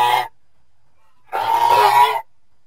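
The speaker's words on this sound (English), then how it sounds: "goose," A goose gives two honking calls: a short clipped honk, then after a second of silence a longer, louder honk, both close and alone.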